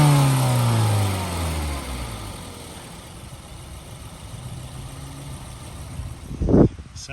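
A 2012 Mazda Mazda2 Touring hatchback engine idles steadily, its pitch sweeping up and settling as the revs climb and fall back, with a brief louder burst near the end; the sound is moderately loud and close.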